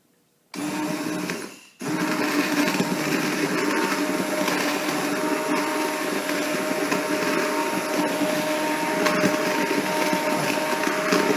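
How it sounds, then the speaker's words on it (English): Immersion blender puréeing a pot of spicy cauliflower nut soup after hours of cooking, a steady loud motor whir that starts after a brief pause and runs continuously without talk. "then use my immersion blender"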